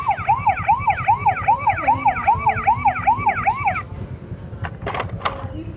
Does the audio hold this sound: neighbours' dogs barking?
no